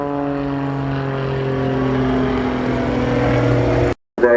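An aerobatic display aircraft performing at a seaside air show, its engine a loud, sustained harmonic drone with a slowly shifting pitch, cut off abruptly near the end.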